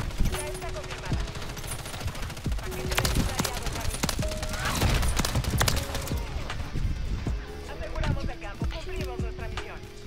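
Automatic gunfire crackles in Call of Duty Modern Warfare 3 multiplayer, with dense, rapid bursts of shots layered over a busy, continuous battle mix.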